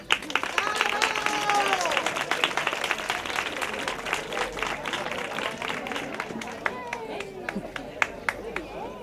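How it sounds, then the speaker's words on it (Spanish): Applause at an end-of-school-year celebration, a crowd clapping in a lively, uneven patter with sharp individual claps, while voices and chatter carry on underneath throughout. "Un aplauso para ellas."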